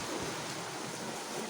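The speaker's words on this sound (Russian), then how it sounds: "Дождик, нам капель капает." Heavy rain pouring down during a thunderstorm with wind and hail, a dense steady hiss of falling water filling the scene at close range.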